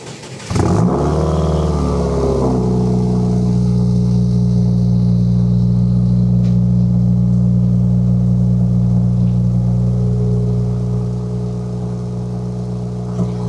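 A 500hp Subaru WRX engine drones loud and steady from a rear-mounted microphone while driving, with a brief rev near the start settling into a constant deep hum that eases slightly toward the end.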